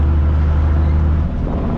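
Chevrolet Silverado with a 6-cylinder MWM 400 hp diesel engine under acceleration, a loud, close, steady low rumbling drone that eases slightly near the end.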